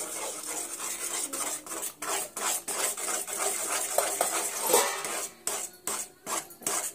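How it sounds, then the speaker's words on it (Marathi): Semolina (rava) being stirred into hot milk in a pot, a rhythmic rasping scrape of a spoon against the pot bottom, close, with short pauses between strokes. "रवा आपल्याला एकसारखा हलवायचा आहे"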